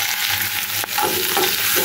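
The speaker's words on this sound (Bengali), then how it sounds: "এই যে চাল ভাজতেছি আর চাল ভাজা" Raw rice is dry-fried in a pan at home, giving a steady close sizzle with gritty scraping as the grains are stirred, plus one sharp knock near the middle.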